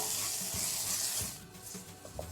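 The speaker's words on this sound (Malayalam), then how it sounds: "കുറച്ച് കറിവേപ്പില ചേർക്കാം. എല്ലാം നന്നായി മൂപ്പിച്ചെടുക്കാം." Curry leaves and spices sizzle and spit in hot oil while tempering for tomato rasam, a steady close hiss that fades slightly toward the end, with no voices.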